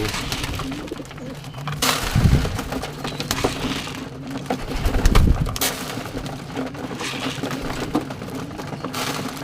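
Pigeons coo in low, repeated bursts while being fed, with soft fluttering and pecking, and louder swells of cooing around a few moments across an otherwise steady background.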